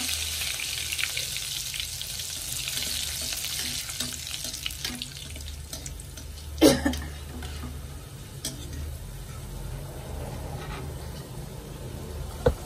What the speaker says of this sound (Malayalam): ആദ്യം കുറച്ച് കറിവേപ്പില വറുത്തെടുക്കാം.